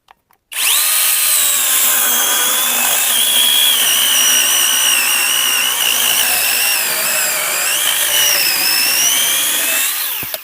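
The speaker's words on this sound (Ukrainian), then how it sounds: "пробуємо цю пилочку спочатку на сосні" A Grosser GCS 860S cordless chainsaw whines loudly and steadily as it cuts through pine, the motor pitch wavering slightly under load, starting abruptly and stopping near the end.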